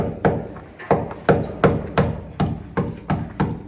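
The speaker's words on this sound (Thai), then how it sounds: "เราก็ใช้ตะปูคนกรีดนะครับ ในการตอกเข้าไปนะครับ" Steady hammer blows driving concrete nails into an exterior wall, about ten sharp metallic strikes at an even pace, close and loud, each ringing briefly before the next hit.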